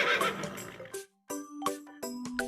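A horse gives a few short, bright neighs and snorts in quick bursts after a brief quiet gap, fairly close and clear with no talking.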